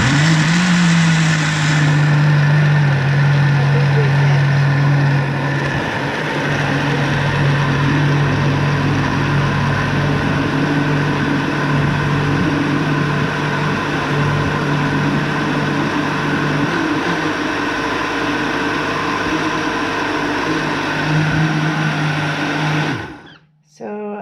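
A lidded electric mixer whisks freshly harvested aloe vera gel into a frothy foam, a loud continuous motor whir with a steady hum that runs for over twenty seconds before cutting off abruptly near the end.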